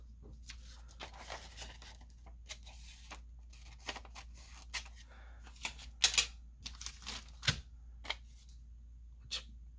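Paper book page being cut for a junk journal, heard as quiet scattered snips and crisp rustles, several sharper clicks and tears clustered near the middle, over a faint steady low hum.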